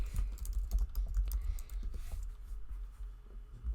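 Rapid, uneven keystrokes clatter on a computer keyboard while a Halloween search term is typed for a Cricut craft project, close and fairly loud with no voice over it.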